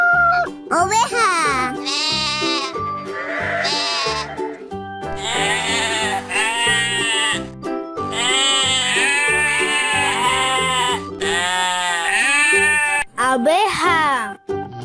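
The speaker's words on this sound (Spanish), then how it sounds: "Oveja." A sheep bleats in repeated wavering calls, loud and close, layered over a bright children's music track.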